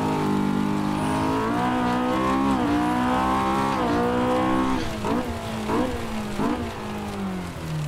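A video game racing car with a Honda K20 engine, an Axfor ProPulsion S2 Junior, revs high and loud, its pitch rising and dipping steadily, then stuttering through quick gear shifts.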